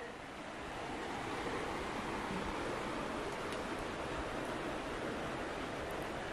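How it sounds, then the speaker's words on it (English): A moderately full river flows with a steady, broad rushing roar, loud and constant throughout, with no talk over it. "There's the river over there."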